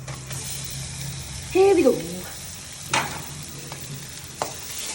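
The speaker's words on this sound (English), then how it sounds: "Now mix the mashed potatoes properly with the tadka." Mashed potatoes stirred into a sizzling chili tadka in a pan, a soft scraping stir with a steady fry hiss underneath and a few sharp clinks, while a voice speaks briefly.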